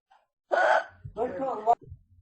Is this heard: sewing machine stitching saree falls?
no